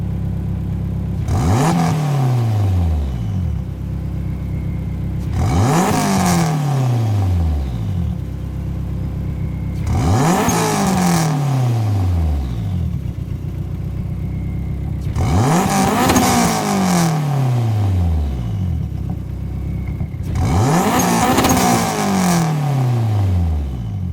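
Racing video game car engine revving hard in five repeated pulls, each sweeping up in pitch then dropping off, spaced about five seconds apart over a steady loud engine drone, close and with no talk.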